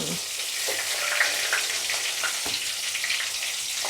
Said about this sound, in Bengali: আমার এটা ভাজা হয়ে গেছে একটা এলাচ।